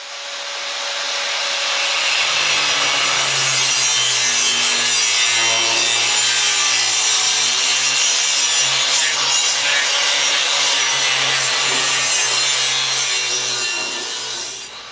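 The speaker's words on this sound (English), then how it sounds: "Okay, well, I got the tubes cut off, so you can kind of see that." A cutting tool slices through boat trailer tubes with a loud, continuous grinding whine that swells in, holds steady for many seconds and tapers off at the end.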